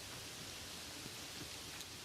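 Soft, steady rain hisses evenly as a gentle, close ambience, with no other sounds over it.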